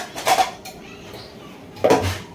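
Lid set over a bowl of kneaded, oiled puri dough in a home kitchen, giving two clinking metal-on-dish knocks about a second and a half apart, close and fairly loud, with no talking.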